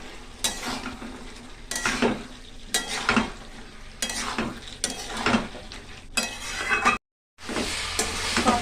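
A spatula scrapes and stirs spicy unripe jackfruit curry with sugar as it sautés in a pan, giving a series of rhythmic scraping strokes over a soft sizzle with a brief pause near the end.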